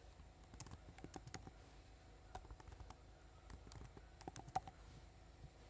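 Keystrokes on a computer keyboard during UI design work, soft irregular clicks in short bursts, faint and close, with no voices.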